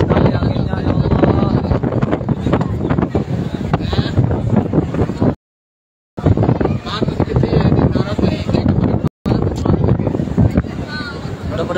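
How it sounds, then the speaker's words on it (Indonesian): Strong, dusty wind gusts roar steadily in Mecca during a windstorm after evening prayer, buffeting the microphone while someone talks over it; the sound briefly cuts out twice. "Kencang sekali anginnya ya."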